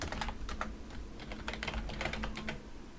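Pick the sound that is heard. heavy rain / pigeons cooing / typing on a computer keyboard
typing on a computer keyboard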